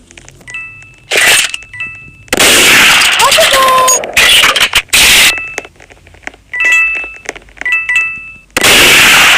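Gunshots in the Roblox game Murder Mystery 2 ring out as several loud, sharp bursts spread across the stretch, with brief quieter gaps and faint game tones between them.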